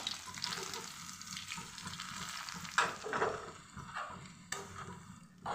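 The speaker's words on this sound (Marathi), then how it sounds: "हा रवा पण मी आता मस्त असा मध्यम आचेवर छान खरपूस भाजून घेते" Semolina roasting in ghee in a pan over medium heat, a steady soft sizzle and crackle with a few louder scraping stir strokes partway through.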